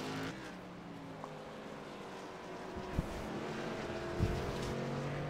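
Racing truck engines in a video game drone steadily at a distance, a continuous motor roar with a couple of brief louder bumps, no voices over it.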